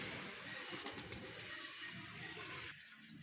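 Pigeons coo quietly in the background, soft low calls repeating under a steady faint hiss with no talking.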